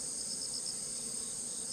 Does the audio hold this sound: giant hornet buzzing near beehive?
yes